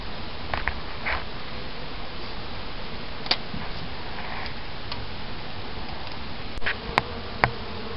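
Honey bees buzzing in a dense, steady drone during removal of a colony with comb, continuous and close throughout, with a few faint clicks and taps rising briefly above the hum.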